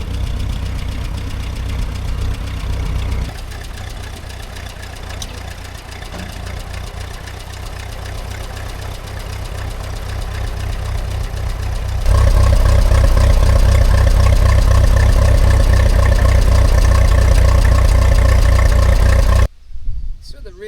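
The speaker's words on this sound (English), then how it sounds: "We'll run the tractor up in a minute." A Ferguson TED20 tractor engine runs steadily close by, then revs up louder after about twelve seconds with a strong low throbbing beat, and cuts off near the end.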